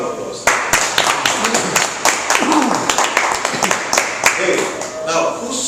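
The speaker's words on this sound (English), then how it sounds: "Let's give another round of applause." A small audience at a Toastmasters club meeting in Metro Manila breaks into steady applause, many sharp hand claps rising in a dense patter, with voices murmuring underneath.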